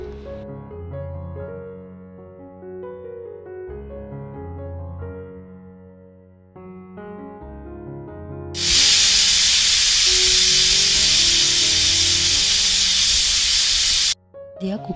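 A pressure cooker holding veg pulav lets off its steam in a loud, steady, close hiss that bursts in after soft music and runs about five seconds before cutting off abruptly.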